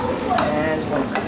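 Tomato sauce sizzles in a hot frying pan as it is stirred, a steady close crackle with scraping strokes of a utensil throughout.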